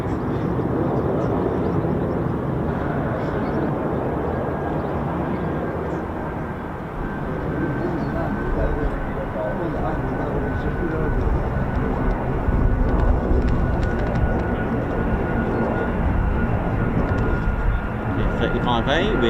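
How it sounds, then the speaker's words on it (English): An F-35A fighter jet fitted with extra missile rails and pylons arrives overhead at RAF Lakenheath, a steady, loud broadband roar that holds throughout and swells slightly toward the end. "F-35A with additional missile railings, pylons."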